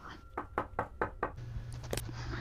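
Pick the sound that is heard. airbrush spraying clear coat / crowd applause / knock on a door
knock on a door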